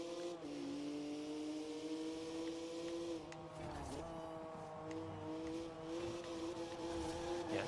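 A car in Forza Horizon 4 drives with a steady engine drone, pitch dipping and climbing as it shifts and takes a line through a bend, fairly quiet.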